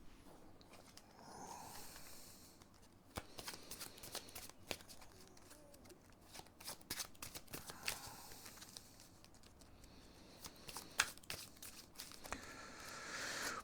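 Playing cards from a Marvel Champions game being shuffled and handled, a run of close, crisp riffling and papery flicks with several sharper snaps, heard alone without talk.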